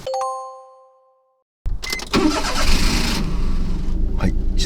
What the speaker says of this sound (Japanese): 車内にエンジン音が響き渡ります。